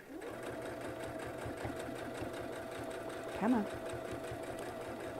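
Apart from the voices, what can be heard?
sewing machine stitching batting and fabric notebook cover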